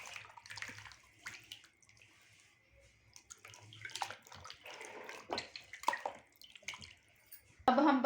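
Fish being washed by hand in a basin of water, with intermittent splashes, sloshing and trickling that come and go in bursts, close and fairly quiet, ending in a louder rush of water.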